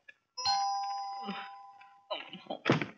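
A doorbell chimes once with a sustained two-tone ring, followed by a brief louder clang and voices starting up near the end.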